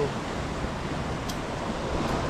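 Big ocean waves at the sea, a steady loud wash of surf with wind across the microphone, continuous and without distinct breaks.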